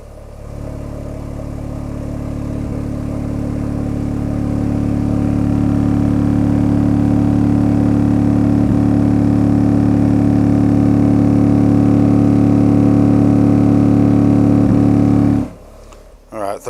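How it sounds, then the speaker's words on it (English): Dual Memphis Mojo 6.5 subwoofers in a ported prefab box, driven hard in a car audio dyno test, give off a loud, sustained low drone with turbulent port rush that swells and holds steady before cutting out abruptly. "It's actually port noise you're hearing in the background."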